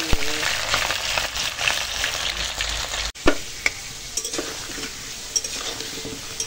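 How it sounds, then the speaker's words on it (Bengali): Potatoes fry in hot oil in a wok, a loud dense sizzle that drops after a sudden break, followed by softer frying with scattered clinks of a spoon against metal. "এখন হয়ে গেছে আলুটা ভাজা"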